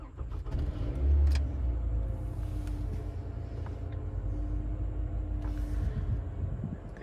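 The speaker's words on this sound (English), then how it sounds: "So we're just gonna start the car again" A Toyota Camry engine runs at idle after being started, a steady low rumble with a brief louder surge near the start, close by and without any talking.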